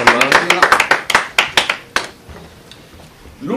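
Applause at a diploma ceremony: a small crowd claps in crisp, fast, scattered strokes that thin out and fade, then give way to quieter room sound and a voice.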